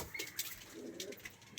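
Domestic pigeons coo softly up close, a few low murmuring coos mixed with small chirps and rustles in a quiet room.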